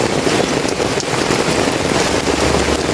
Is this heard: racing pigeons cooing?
no